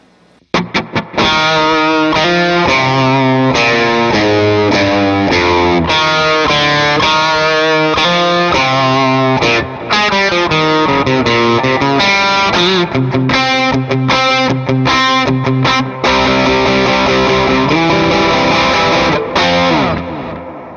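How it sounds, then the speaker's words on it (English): Distorted electric guitar played through a Faux tape echo pedal in a live rig, a loud continuous riff of chugging chords and bright lead notes with echo trails, with no talk. "I'll kick on the Faux tape echo for that."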